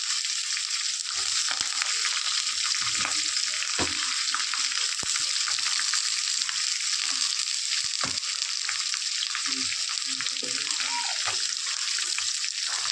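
Onions, green chillies and curry leaves sizzle steadily in hot oil, a dense continuous frying hiss with occasional soft stirring scrapes, close and fairly loud with no talking.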